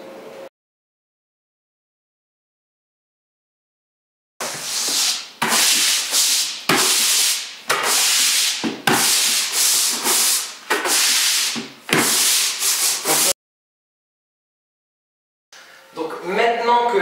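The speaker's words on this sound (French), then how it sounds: "nettoyer en douceur le parquet, ce qui nous permettra d'avoir une surface prête à peindre en frottant avec un balai brosse" An old wooden parquet floor is scrubbed with a stiff brush broom in repeated loud bristly strokes that come in bursts with short breaks between them, then a long pause and a brief final burst of rubbing.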